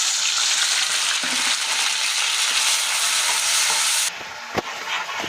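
Onion, cumin and tomato paste frying in hot oil for a shortcut egg curry, a loud continuous sizzle with occasional stirring scrapes that drops sharply near the end, followed by a single clack.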